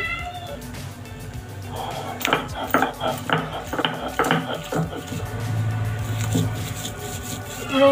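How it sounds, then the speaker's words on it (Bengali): Green chilies ground on a shil-pata grinding stone, giving a series of irregular scraping and knocking strokes of stone on stone at close range, with a steady scraping stretch near the end. "এখন আমি এগুলোকে উঠিয়ে শিল্পাটা নিয়ে নিলাম। এখন আগে কাঁচামরিচগুলো বেটে নিব ভালো করে।"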